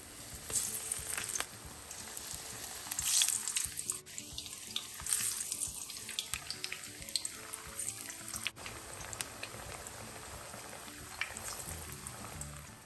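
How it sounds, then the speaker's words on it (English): Breadfruit pieces dropped into a pot of hot oil to fry, giving a steady close hiss and sizzle with bursts of bubbling that rise and fall throughout, no talking. "And now we are gonna fry. So just put each of the breadfruit in the pot."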